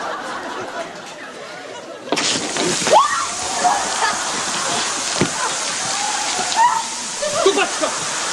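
Water bursts from a pipe hit by a drill, and a loud sudden gush starts partway through and keeps rushing steadily while people shout and talk over it.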